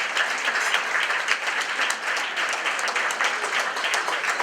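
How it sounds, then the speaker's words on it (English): An audience at a Champions for Children charity event claps and applauds steadily, a dense, loud round of clapping sustained from start to finish with no pauses. "Let's give a round of applause to all of our donors"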